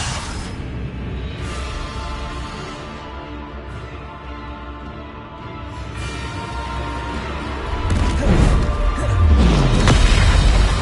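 A Bombarda spell explodes in Hogwarts Legacy. A whoosh is followed by a loud, heavy boom near the end, over a sustained game ambience and music bed.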